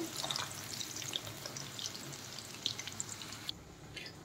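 Chicken pakoras fry in hot oil with a steady, fairly quiet broadband sizzle and small crackling pops throughout, easing slightly toward the end, with no voices.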